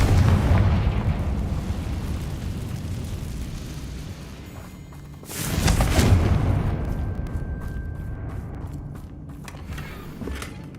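The Confringo fire spell from Hogwarts Legacy goes off with a sudden heavy blast partway through, rising out of a dense, rumbling game soundscape and then tailing away into a fading rumble.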